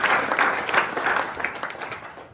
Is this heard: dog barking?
no